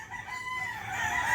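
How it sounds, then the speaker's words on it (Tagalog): A large chicken calls close by, a single brief, rising vocalization that swells louder toward the end. "Pagkalaki ng manok ah."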